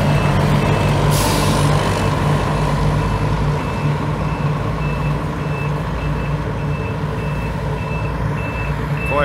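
An Águia Branca coach arriving from Vitória at a bus stop in Governador Valadares, Minas Gerais, with loud steady reversing beeps over a continuous diesel rumble and hiss of air brakes, heard close and with no talk.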